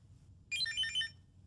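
A mobile phone ringtone chirps during a family dinner in a cartoon, a quick high melodic trill of a few notes lasting about half a second, clear above a low murmuring background.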